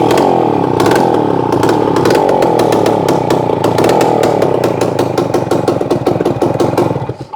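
A Suzuki MAX100R motorcycle with a cut silencer runs loud and close, its engine giving a harsh, rapid, buzzing two-stroke rattle that holds steady before tapering slightly toward the end.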